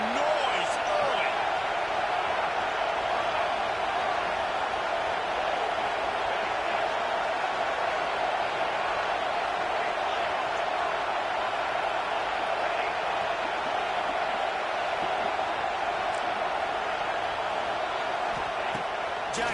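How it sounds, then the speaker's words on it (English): Steady wash of stadium crowd noise at an American football game, a broad continuous roar heard from within the stands with faint scattered shouts. "This crowd bringing the energy and noise early."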